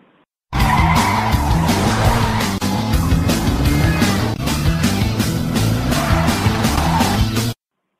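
A car pulls away hard with tires squealing and skidding, a loud continuous screech and engine roar lasting several seconds before cutting off abruptly.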